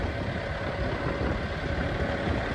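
A crane engine runs steadily at a low rumble while lifting a 6,000-pound dump bed on a homestead, a dense and even noise with no talk.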